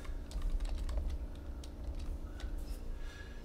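Someone types on a computer keyboard, a quick, uneven run of light clicking keystrokes close by with no talking.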